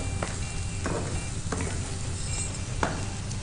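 Onions sizzling and frying in a pan for a Kanuma festival natu kodi pulusu (country chicken curry), a steady hiss close by broken by a few sharp stirring scrapes and clinks, with no talking.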